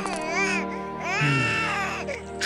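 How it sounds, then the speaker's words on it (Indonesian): An infant cries in a folk-tale cartoon, with two long wailing cries separated by a short breath, loud and close, with no other voices. "Awang tiba-tiba mendengar suara bayi yang menangis"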